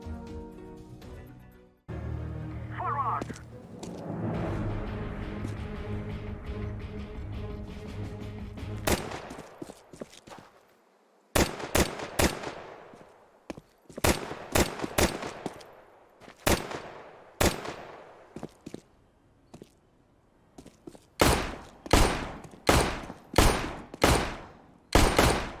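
Weapon fire in Counter-Strike 2: after a stretch of dense game noise, loud sharp shots ring out alone in short bursts and single cracks, each trailed by a reverberant tail, repeating steadily.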